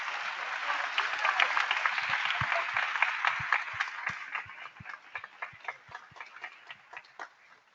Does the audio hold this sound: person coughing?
no